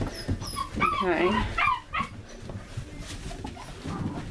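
Six-week-old Sheepadoodle puppies whimper and yip close by in short, high, wavering cries in the first two seconds, then fade under quieter background sounds; a person briefly speaks.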